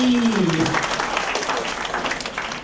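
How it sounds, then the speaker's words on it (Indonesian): Audience applauding at a Buddhist Dhamma talk event, steady clapping sustained throughout at close range, with a tonal voice or tone fading in the opening moment. "tepuk tangan untuk Ratu Kopi"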